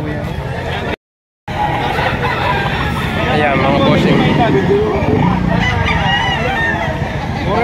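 Chickens and roosters at a busy poultry market in Lipa, Batangas, with occasional crowing and clucking mixed into a steady crowd hubbub while someone talks loudly close by.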